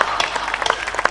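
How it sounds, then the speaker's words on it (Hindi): Brief burst of clapping from audience and stage at a Hindi poetry recital, a dense patter of hands with a few sharper individual claps standing out. "मंच भी ताली बजाए, क्योंकि मैंने इनकी कविताओं पर खूब तालियां बजाई हैं"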